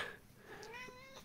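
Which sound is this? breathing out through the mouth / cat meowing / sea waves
cat meowing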